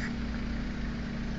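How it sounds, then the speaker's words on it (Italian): A car engine idles close by in traffic in Milan near a Ferrari, giving a steady, low rumbling drone with constant vibration and no talking over it. "Senti il motore."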